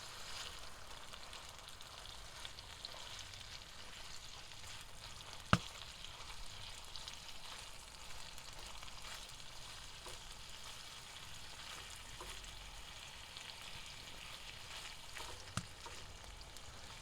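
Bacon frying on a G Stove inside a hot tent, a faint steady sizzle heard from a short distance, broken by a sharp knock near the start and a small tap late on.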